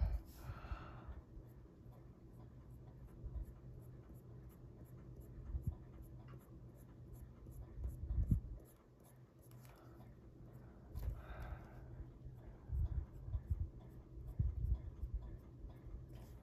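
Prismacolor Premier colored pencil shading skin tones on a greyscale coloring page, giving soft, continuous scratchy strokes on paper with a few brief louder scrapes, close and quiet, with no talking.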